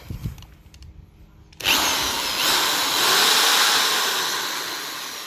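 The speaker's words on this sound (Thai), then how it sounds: "ผมจะลองกดสว่านก่อนนะครับ" After a quiet stretch with faint sounds, an electric drill drawing about 2 amps from an off-grid hybrid solar system with a LiFePO4 battery whirs to life loudly and keeps running steadily, close by.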